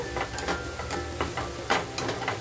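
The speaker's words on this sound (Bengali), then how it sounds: "এভাবেই করে নাড়াচাড়া করতে হবে।" A spatula stirs spices with amchur powder in a frying pan while cooking arbi, giving soft repeated scraping strokes about every half second over a faint steady sizzle.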